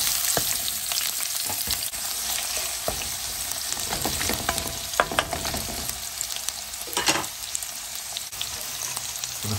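Onions sizzle steadily in oil in a pan, a close, continuous frying hiss broken by occasional clicks and scrapes of stirring, with no talking.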